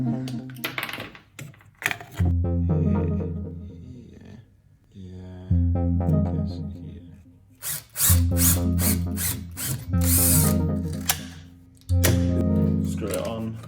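A cordless power drill drives screws to fasten a repair piece onto the blade guard of a DEWALT mitre saw, whirring in repeated bursts of rising motor pitch, with a stretch of sharp clattering ratchet sounds partway through.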